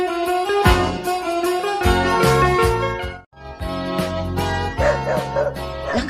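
A dog barks loudly and close in a rapid series of sharp, yipping barks that run almost without pause, with a short break midway.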